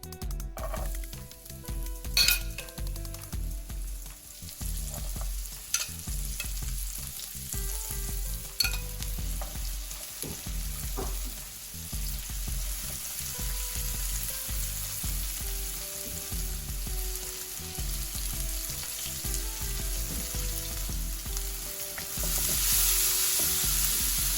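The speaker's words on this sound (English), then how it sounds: "we're just going to saute all the veggies until it releases some of its acids" Chopped carrots, celery and red onion sauté in butter and extra virgin olive oil, giving a steady loud sizzle with occasional stirring clinks and scrapes throughout, no voices.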